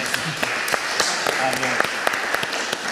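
Applause from an audience, a steady patter of many hands with distinct louder claps popping out, voices murmuring underneath.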